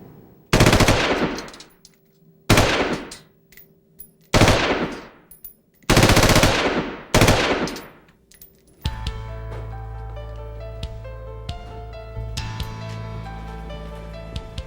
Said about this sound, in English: To see if a particular gun had been used in a crime, a ballistics expert test fires it.